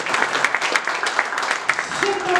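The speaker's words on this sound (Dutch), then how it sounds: "Krijgt ze een applaus?" Scattered audience applause at an anniversary gathering of a sports council, light and uneven clapping with chatter and voices mixed in throughout.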